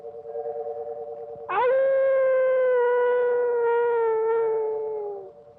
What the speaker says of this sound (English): It even includes a brief shot of a howling dog.